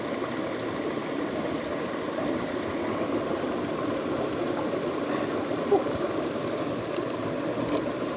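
Steady water of a forest creek flowing in a mountain jungle, a constant close wash of noise with no breaks, faint low rumble underneath.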